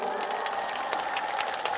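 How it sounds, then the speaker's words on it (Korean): An audience claps in a steady, moderately loud burst, with light crowd noise under it. "박수 한번 보내주세요"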